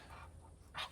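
A duck in a garage gives a short, faint clucking call, with a lower murmur just before it, over a low background hum.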